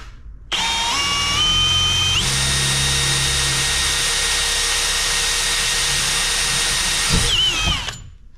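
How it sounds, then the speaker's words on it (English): A Milwaukee M18 FPP2A3 hammer drill in drilling mode at speed 2, on a fully charged battery, bores steadily with a loud, sustained whine that ramps up briefly before settling into a constant tone for several seconds, then winds down. "So, drill hammer, it's on drilling mode, speed 2, and it has a fully charged battery."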